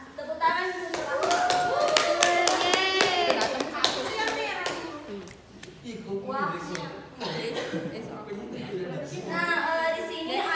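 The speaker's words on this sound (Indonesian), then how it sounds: "Ya, tepuk tangan untuk" Short bursts of clapping from a classroom of children during a teaching session, heard under the teacher's and kids' voices that run throughout.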